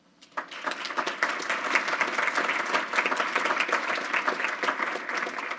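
A school district board meeting audience applauds a teacher, starting suddenly after a brief quiet and then holding as a steady, even patter of many hands clapping until the end.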